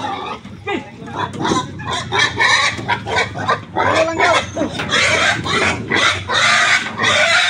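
Pigs grunt and squeal up close amid clucking chickens and a crowing rooster, a busy, noisy farmyard chorus with a few voices mixed in.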